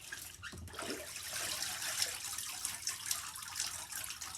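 Water drains and trickles from muslin rag paper pulp as a sheet is pulled, a steady close splashing wash with a soft dripping hiss throughout.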